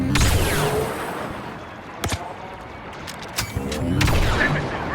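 Gunfire and artillery in the Star Wars Battlefront II video game: a sustained, dense crackle of shots, punctuated by two sharp, heavy booms mid-way and a renewed loud barrage near the end.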